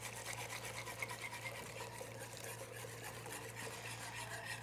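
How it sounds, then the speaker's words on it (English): An egg mixture is whisked back into beignet batter in a pot. The faint, quick, steady scraping and swishing of the whisk sits over a low constant hum, with no one talking. "I'm going to take my egg mixture, whisk it back in."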